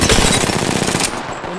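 Rapid machine gun fire from the video game Apex Legends, a loud continuous burst of closely spaced shots that cuts off near the end, with no talking.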